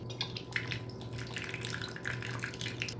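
Red wine vinegar trickles and splashes in a thin, quiet stream into a bowl of marinade with Greek yogurt and fresh dill, with soft liquid patter throughout.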